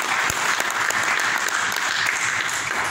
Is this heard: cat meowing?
no